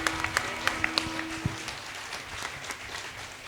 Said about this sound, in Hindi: आप एक बार जोरदार तालियों से बता दें कि कितना पसंद आया आपको।